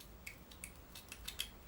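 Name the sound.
scissors cutting cheap rope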